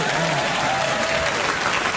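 A TV studio audience claps steadily for a couple of seconds, a dense, even burst of applause with a faint murmur of voices underneath.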